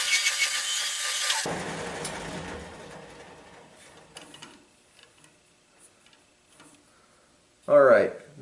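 A wood lathe with a chisel cuts a wooden turkey call blank, making a loud, rough scraping for about a second and a half. It then fades into faint ticking as the spindle winds down, and a voice follows near the end.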